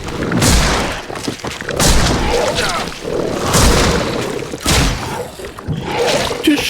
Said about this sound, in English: let me show you how to use a shotgun